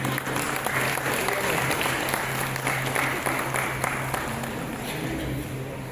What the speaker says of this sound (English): A warm round of applause for Sri Soklat's inspiring journey